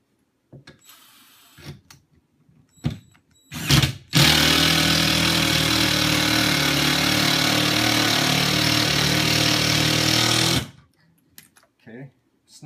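A power tool drives a self-tapping lag screw for wall steps in one long, loud, steady whirring run of about six seconds, framed by short bursts, clunks and brief voices.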